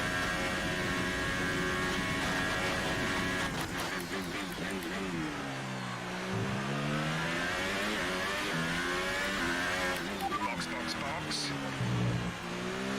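F1 car slowing into the pit lane at the USA Grand Prix in F1 2018, engine note dropping and wavering steadily throughout, loud and close, with someone talking over it.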